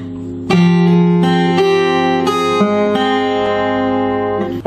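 Acoustic guitar picking a fingerstyle phrase from a song, a short run of plucked notes ringing together, close and fairly loud with no talking.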